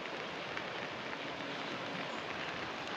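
Heavy rain pouring steadily during a flood beside a stream, a dense, even hiss of drops striking surfaces that continues unbroken throughout.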